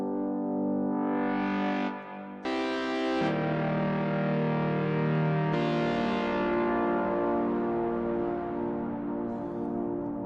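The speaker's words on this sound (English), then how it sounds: "this is, I think it's about 2 minutes worth of reverb tail" A sustained, heavily effected Novation Peak synthesizer chord swells and shifts, then lingers as a long, washing reverb tail that slowly fades out.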